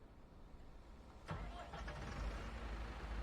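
A small tractor engine in a farming video game cranks and catches with a sudden start, then settles into a steady low idle rumble, fairly quiet with no talk over it.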